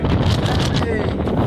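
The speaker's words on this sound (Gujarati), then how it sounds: "કારણ કે પવન પણ ખૂબ છે" Strong wind buffets the microphone in a steady low roar throughout on Girnar mountain in Gujarat during the monsoon, with faint voices mixed in beneath the rumble.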